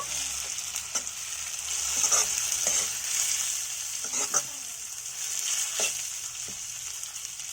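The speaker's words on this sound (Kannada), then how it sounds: "ಟೊಮೆಟೊ ಹಣ್ಣು ಚೆನ್ನಾಗಿ ಫ್ರೈ ಆಗಬೇಕು." Tomatoes frying in a pan for drumstick sambar give off a bright, steady hiss, with scattered stirring clicks and pops throughout and no speech.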